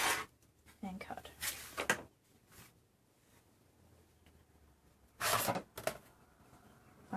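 Scissors or a rotary cutter slicing through quilt wadding against a straight-edge ruler, heard as a few short dry rasping cuts in two bursts with quiet pauses between, close and soft.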